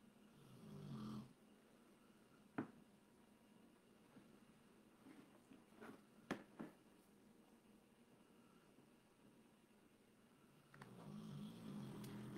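A sleeping dog snores faintly indoors, with soft rumbling breaths at the start and end and a few quiet clicks and bumps in between.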